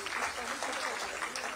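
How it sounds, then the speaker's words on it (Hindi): An audience at an Anganwadi worker appointment ceremony in Dehradun claps steadily, the applause continuing through the whole stretch with a voice speaking over it. "जोरदार तालियां"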